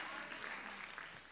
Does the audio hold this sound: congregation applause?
yes